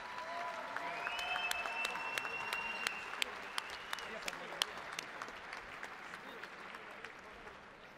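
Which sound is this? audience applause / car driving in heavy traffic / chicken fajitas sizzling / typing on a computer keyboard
audience applause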